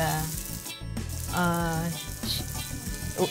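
Meat with carrots and green peas sizzles and fries loudly in a pan as a little water is added, crackling and hissing up close with brief clattering in between.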